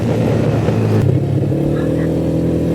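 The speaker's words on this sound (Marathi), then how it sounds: "लास्टचा राऊंड असा मारला की 70 ते 80च्या स्पीडला, बघू शकता. स्पीडला बाईक मारला." A motorbike engine drones steadily at 70 to 80 km/h, loud and close, with a shift in tone partway through as wind and road noise continue, on a ride around Alibag.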